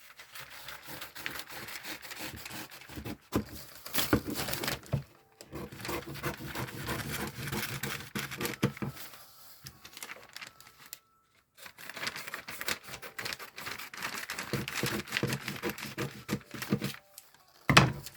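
Scissors cutting out a paper corset pattern, with steady crisp snipping and paper crinkling in long runs broken by short pauses, close and alone.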